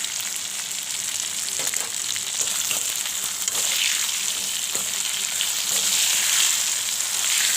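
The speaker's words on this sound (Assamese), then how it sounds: "মাংসখিনি পুৰি সিজি যোৱাকৈ মই ফ্ৰাই কৰিছোঁ অকণমান নিমখ দিছোঁ" Chicken pieces frying in a pan with a little salt, a steady loud sizzle throughout with faint scraping stirs, no voices.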